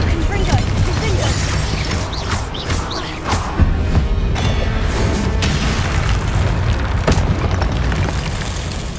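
A Confringo blasting spell explodes repeatedly in Hogwarts Legacy, dense booming bursts over constant loud rumble and battle noise with scattered sharp crashes throughout.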